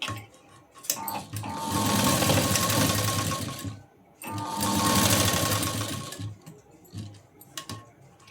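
A sewing machine runs in two long bursts of stitching, sewing a tiny round fabric knot for a tassel; the steady rapid whir rises and falls with brief pauses and quiet handling between runs, close and fairly loud.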